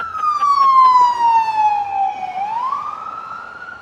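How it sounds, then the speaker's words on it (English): A police siren wails steadily and fairly loud, its tone sliding downward then rising again as it passes through a city street in Los Angeles. "Siren sound weak as fuck."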